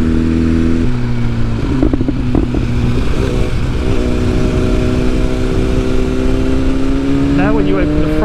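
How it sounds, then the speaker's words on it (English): A tuned 2022 BMW S1000R motorcycle engine rises steadily in pitch as the throttle opens, loud and close throughout, with a brief lull near the start and a sharper rev toward the end. "Now when you open the throttle ever so slightly, it looks like it's picked up power too."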